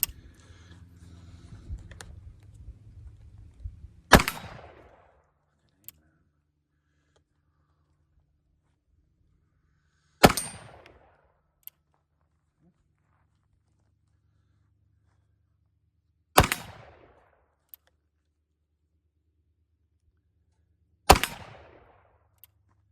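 Four sharp, loud reports from an Uberti 1858 Remington New Model Army revolver loaded with 25 grains of 4F black powder and .454 round balls, each shot spaced several seconds apart with quiet pauses between.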